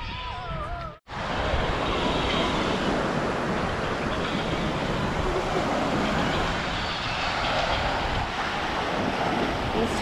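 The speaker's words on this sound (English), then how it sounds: "Welcome to Pensacola Beach." Waves break and wash steadily on Pensacola Beach on a warm evening, a loud, continuous surf roar mixed with wind buffeting the microphone, after a brief sharp cutoff near the start; no one speaks.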